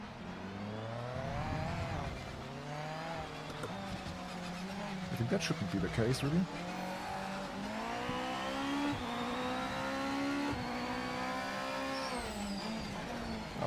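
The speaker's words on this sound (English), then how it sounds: "It's strange how you can hear the gearbox so loud in the chase cam." A GT500 race car in Project Motor Racing, engine droning and shifting through gears from the chase cam, with a busy burst around the middle and someone talking over it throughout.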